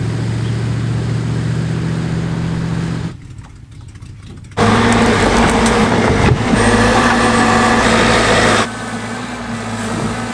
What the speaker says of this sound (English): Dump truck is full, so let's go and take a dump.